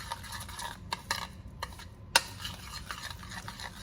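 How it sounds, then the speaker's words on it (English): A spoon stirs keto waffle batter of pork rinds, butter and cinnamon in a bowl, giving soft repeated scraping with a few light clinks, including one sharp tap against the side. "we're just going to mix it all up."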